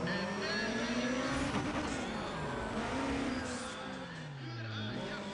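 Race car engines rev and accelerate in Need For Speed ProStreet, several overlapping pitches climbing and falling in a dense roar with voices faintly underneath.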